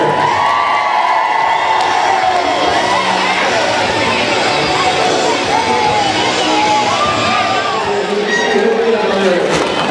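Crowd at a women's roller derby bout cheering, whooping and shouting steadily throughout, a dense, loud roar of many voices with some higher children's yells mixed in.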